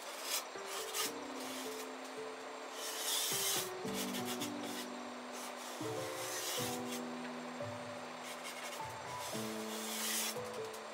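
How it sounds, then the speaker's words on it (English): A drywall knife scrapes high spots off set joint compound in repeated quiet rasping strokes, with soft background music underneath. "I use my drywall knife to scrape off any high spots from the mud."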